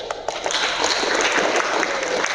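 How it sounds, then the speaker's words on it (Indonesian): Classroom applause from a group of students, a steady broadband patter of many hands clapping close by for a couple of seconds, with a few sharper individual claps near the start. "Saya apresiasi, tepuk tangan dulu."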